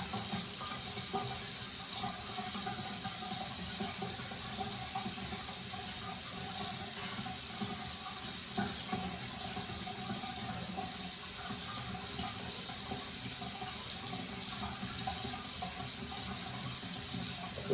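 Water runs steadily from a tap as a shaving razor is rinsed under it, a constant broadband splashing hiss with no breaks, close and alone for the whole stretch.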